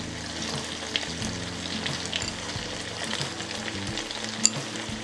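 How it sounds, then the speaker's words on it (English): Sage leaves crackle and sizzle in hot oil, a steady close-up frying hiss with small pops and one sharper spit near the end. "Adding the sage leaves to some hot oil"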